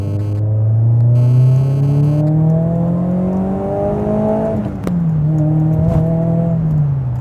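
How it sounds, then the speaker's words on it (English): A loud supercharged BBR-tuned Mazda MX-5 engine climbs steadily in pitch under hard acceleration, briefly drops at a gear change, then pulls again with a rich, throaty exhaust and little supercharger whine. "you don't get much superchargery sort of whine, you get quite a lot of exhaust"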